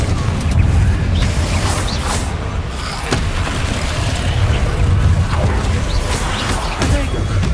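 A Confringo explosion spell goes off in Hogwarts Legacy combat, heard as a dense, rumbling blast amid continuous loud battle noise that stays steady for several seconds.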